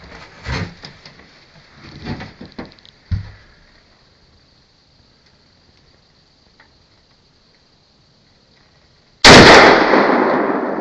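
Rifle fired at a tannerite target inside a fridge: a few sharp, distant cracks early on, a long quiet stretch, then one sudden loud blast with a trailing rumble that decays to the end.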